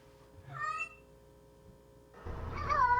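A pet cat in a bathroom gives a short, clear meow, then after a quiet pause lets out a longer, louder, drawn-out meow that rises and bends in pitch.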